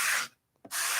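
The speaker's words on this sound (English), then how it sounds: "So I'm just going to start sanding with the grain long ways." Sandpaper rubbed lengthwise along the grain of wood on a mini guitar kit body, two brisk close strokes of rasping hiss separated by a short pause.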